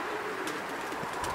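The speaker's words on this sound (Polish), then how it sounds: "Jest w tej chwili 20 gołębi" Racing pigeons at a winter club training flight coo softly at a distance, a faint murmur amid steady outdoor background noise.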